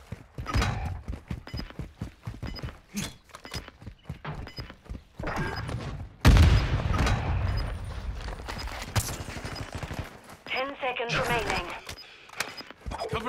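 Shooter video game gunfire, with sharp bursts and single shots crackling at moderate volume amid other in-game effects, while game voices talk over the action.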